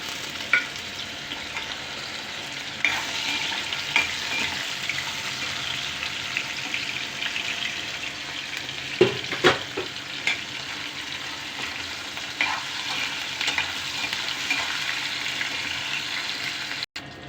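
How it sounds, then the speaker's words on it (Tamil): Potato pieces and paneer shallow-fried in plain oil give a steady close sizzle for the whole stretch, with occasional scraping and stirring clicks and brief louder crackles. "இந்த உருளைக்கிழங்கு நல்லா வறுக்கணும், எதுவுமே போடக்கூடாது, வெறும் எண்ணெயிலே லைட்டாக பொரித்து எடுக்கணும்"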